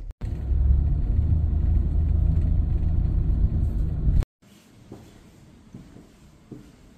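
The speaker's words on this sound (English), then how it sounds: "we're sitting in the Silver Lake traffic" Car engine idling in Silver Lake city traffic, a steady low rumble from inside the vehicle that cuts off abruptly partway through, leaving quieter cabin sounds.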